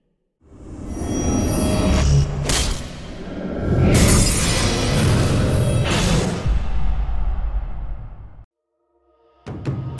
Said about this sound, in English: use Dragon's Rage to kick it into the enemy nexus, immediately destroying it and winning the game